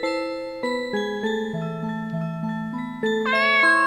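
Cat meows in the video game Chloe's Requiem, a run of clear pitched mews set over soft music tones, ending in a louder, higher cry.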